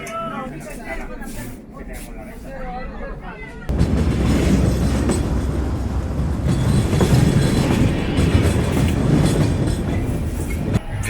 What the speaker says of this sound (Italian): sul treno che da Pushkar mi porta a Jodhpur